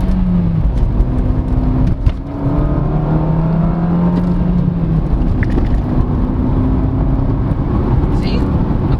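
Suzuki Dzire GL+ AGS sedan, a 2024 automated-manual model, downshifts and accelerates hard, the engine note climbing in pitch under the cabin hum while a person talks over it.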